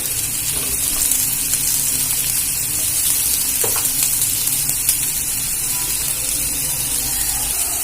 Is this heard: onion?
yes